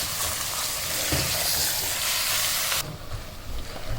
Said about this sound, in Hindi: इस कीमे को मैं इस प्याज और अदरक लहसुन के साथ अच्छी तरह इसको मिक्स करूँगी, भूनूंगी